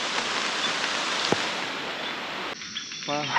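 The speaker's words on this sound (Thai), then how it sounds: "อ๋อเสียงฝนตกมาแต่ทางบน" Heavy rain falls on a mountainside as a dense, steady hiss. A brief sharp knock sounds partway through, and the rain cuts lower and thinner near the end.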